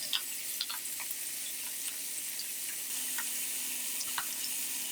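Chicken pieces fry skin-side down in a pan, giving a quiet, steady sizzle with scattered small pops and crackles throughout, and no talking.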